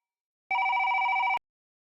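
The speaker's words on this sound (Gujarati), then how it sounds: "ફોન આવ્યો કોકનો." A telephone rings with an incoming call, one bright electronic trill lasting just under a second, loud and close against silence.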